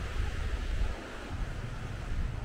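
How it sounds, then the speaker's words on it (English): A river rushing through a deep gorge in New Zealand, heard as a steady broadband roar of water that carries on without a break, loud and close, with some wind noise against the microphone. "hopefully you'll be able to hear the river"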